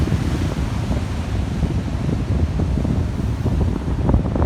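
Waves and wind on the sandy seaside beach at Massa, Italy, a dense, steady roar of surf with wind buffeting the microphone, loud and continuous with no voices.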